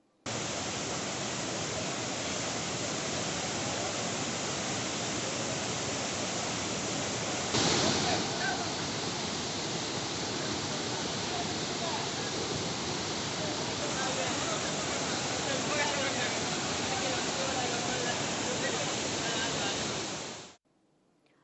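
Floodwater rushes down the path to the Sathuragiri hill temple, a continuous loud roaring wash with no break from start to finish before it cuts off.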